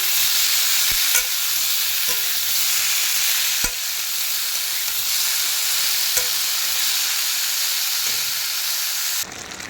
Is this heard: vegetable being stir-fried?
yes